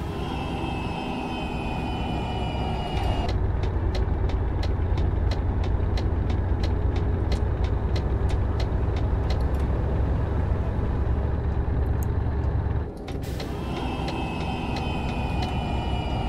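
A Turbo Star bus engine drones steadily in Euro Truck Simulator 2, a continuous low hum on the road from Warsaw to Bratislava, with a rapid regular ticking like a turn signal in the middle section.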